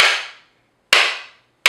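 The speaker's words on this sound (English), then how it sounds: "these younger coconuts definitely take some more banging" A large knife is struck into a young coconut to crack it: three sharp, loud cracking impacts, each ringing briefly before fading, at an uneven rhythm about a second apart.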